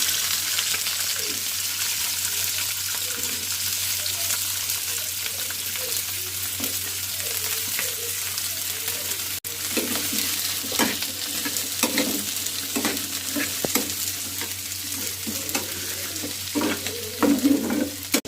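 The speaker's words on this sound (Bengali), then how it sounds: "এখন আমার রসুন ভাজা শেষ হয়ে গেছে।" Garlic, onion and green chili fry steadily in hot oil, giving a continuous sizzle with scattered crackles and pops that grow busier toward the end, close to the pan, with no voices.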